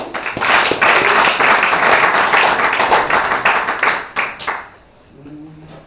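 A church congregation claps loudly and close for about four seconds, the dense clapping thinning into a few scattered claps before dying away to quiet.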